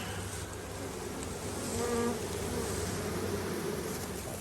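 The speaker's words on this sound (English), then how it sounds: "the rest of the bees fly out of there and they come and find the queen right after" Honeybees buzzing steadily during a hive installation, a dense continuous drone that swells slightly midway, close and alone with no talk.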